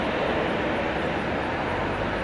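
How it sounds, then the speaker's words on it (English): A Frontier Airbus A321 arriving from Los Angeles lands on runway 18 right at DFW at night, giving a dense, steady jet roar that fills the short stretch without letting up. "As we watch Frontier 2564 come in on 18 right from Los Angeles in Airbus"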